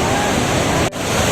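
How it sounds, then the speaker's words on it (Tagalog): Buntot Palos Falls in Pangil, Laguna, a waterfall spilling into a wide natural pool, roars as a steady, loud broadband rush with a brief dip near the end. "So that's Buntot Palos Falls."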